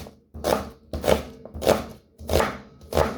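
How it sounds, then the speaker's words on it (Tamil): A knife chops onion on a cutting board in five slow, evenly spaced thuds, each one close and distinct against quiet surroundings. "இப்படி மெல்ல சின்னதாக வெட்டணும்"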